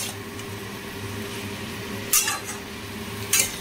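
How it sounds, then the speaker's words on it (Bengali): Methi saag and other vegetables with turmeric stirred in a pan, a steady low kitchen murmur broken by two short bright scrapes of a utensil against the metal. "দেখো আমি হলুদ দিয়ে সুন্দরভাবে সবজিগুলো নাড়াচাড়া করে দিচ্ছি, যাতে সবজিগুলো সুন্দর করে ভাজা ভাজা হয়ে যায়।"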